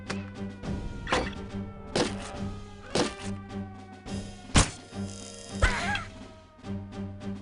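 Crossbow shots in the stealth video game No One Lives Forever: sharp thunking releases at irregular intervals, a few heavier impacts standing out, over a steady low game ambience with no talk.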